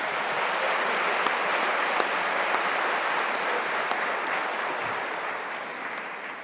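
Sustained applause from a large convocation audience honoring a university big band, dense and steady throughout with scattered sharper claps, fading slightly toward the end.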